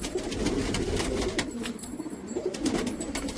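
Pigeons coo in low, throaty murmurs close by, with a steady wash of background noise and a few sharp clicks, no talking.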